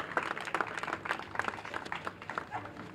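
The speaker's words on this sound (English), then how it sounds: "a round of applause for Captain Hussein and his staff over at B3" A small group at a unity day event claps for a captain and his staff, a sparse, fairly quiet round of individual claps with uneven rhythm, not a full crowd ovation.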